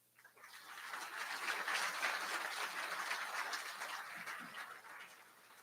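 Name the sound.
audience applause for the families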